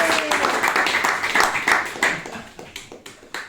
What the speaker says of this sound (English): A great applause for Chicken Spectre.